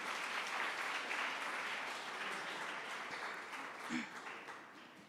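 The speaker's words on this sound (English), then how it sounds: "Please give them a big round of applause." An audience at a school academic awards and seventh grade graduation applauds steadily, a dense wash of clapping that fades slightly toward the end.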